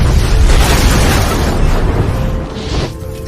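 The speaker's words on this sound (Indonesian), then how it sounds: "sehingga ledakan pun terjadi" A film explosion roars out as a loud, rumbling blast that sustains heavily and then tapers off into a fading rumble over a few seconds.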